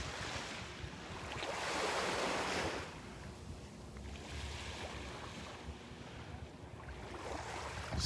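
Ocean surf washing ashore on Vanderbilt Beach in North Naples, Florida, before sunrise, with a light breeze; a steady broadband wash swells louder around two seconds, then settles into a continuous rushing hiss with wind rumble, no voices.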